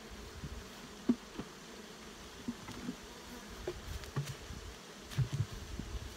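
Honey bees buzzing around an open hive, a soft steady hum with individual bees droning close by now and then, no voices.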